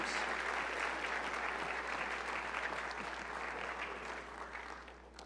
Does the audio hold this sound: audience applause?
yes